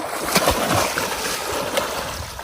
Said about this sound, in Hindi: मुझे ना बहुत ज्यादा गर्मी लग रही थी, इसलिए मैं नहाने के लिए दरिया में आ चुका हूँ।